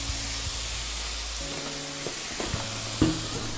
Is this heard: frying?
yes